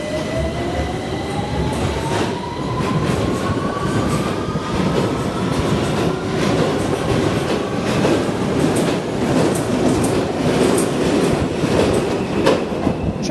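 London Underground Victoria Line train running steadily and loudly close by, with a rising motor whine, continuous wheel rumble and rhythmic clatter over the rails, alone without talk.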